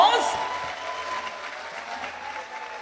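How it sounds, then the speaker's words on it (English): An audience at the opening ceremony for Zonta District 18's STEM project for girls gives a round of applause, a sustained, even clapping that fades slightly toward the end, with a brief sound at the very start. "can we give Zonta District 18 a resounding round of applause?"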